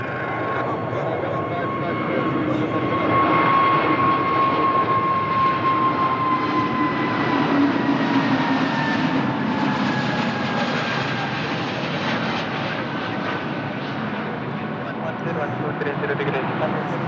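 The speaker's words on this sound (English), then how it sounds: "So that's our Airbus A320neo, the last aircraft delivered to the airline, Azores Airlines." Airbus A320neo airliner of Azores Airlines at Lisbon Airport, a steady jet engine rumble and hiss with sustained whining tones that slowly fall in pitch as it passes, heard at moderate distance.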